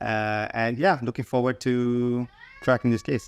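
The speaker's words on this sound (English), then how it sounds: "Excuse my cat." A house cat meows insistently in a home office, its drawn-out cries overlapping and alternating with a man's nearby speech.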